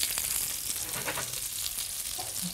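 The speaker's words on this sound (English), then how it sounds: "So fish like that won't take a massive length of time to cook." Mackerel and herring fillets fry in a pan with a steady, close hiss of sizzling oil and small crackles throughout.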